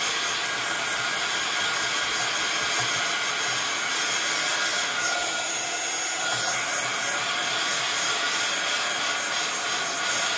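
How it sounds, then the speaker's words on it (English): A heat gun blows steadily and loudly over a mixed media card, a continuous close whooshing hiss with no pauses. "I'm just going to run the heat gun over this."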